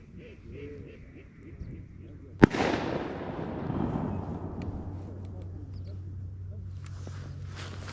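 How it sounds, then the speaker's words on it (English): A single distant shotgun blast over a flooded rice field during a duck hunt: a sharp crack followed by a long, rolling echo that dies away slowly, with faint outdoor background after it. "It's always them shooting at ducks they know they can't hit."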